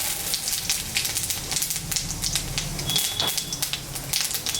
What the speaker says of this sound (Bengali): এখানে গোটা গরম মশলা, জিরা, তেজপাতা, শুকনো লঙ্কা আছে, আমি সম্বরা দিয়ে দিলাম।